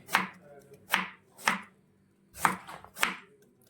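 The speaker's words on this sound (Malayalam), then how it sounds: "നമുക്ക് ബീട്രൂട്ട് ചെറിയ കഷ്ണമായിട്ട് എടുക്കാം." Five sharp knife chops through beetroot on a cutting board, cutting it into small pieces, with uneven gaps between strikes and close, crisp impacts in a quiet kitchen.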